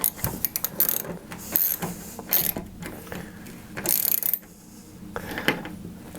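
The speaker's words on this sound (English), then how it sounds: "start screwing it back in" A screw being driven back into a wall with a ratcheting hand tool, giving short clicking bursts separated by brief pauses, close up.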